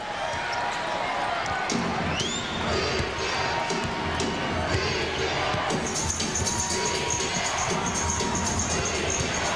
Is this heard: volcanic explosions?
no